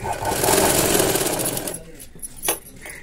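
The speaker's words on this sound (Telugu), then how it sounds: "ఇప్పుడు ఇది మళ్ళీ మనం ఇలా ఎల్ షేప్లో పెట్టి స్టిచ్ వేసేసుకోవాలి." A sewing machine stitches thread piping around a square neck, whirring steadily and loudly for under two seconds before stopping, followed by a few light handling clicks.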